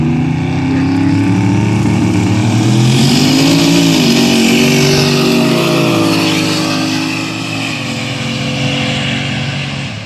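A Firebird and a Mustang drag racing, with loud, steady engine roar rising in pitch through the gears and then holding, close and continuous for about ten seconds.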